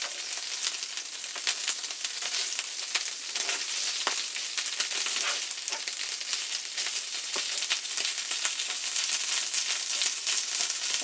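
Hash browns frying in a pan for corned beef hash and eggs give a continuous bright sizzle with small crackles and pops, close and even, alone without any talking.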